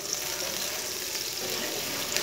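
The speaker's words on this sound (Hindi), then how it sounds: "थोड़ा सा पानी डाल लेंगे" Water splashes into hot oil with lightly browned chopped onions in a pan, a steady loud hiss and sizzle running throughout with no voice.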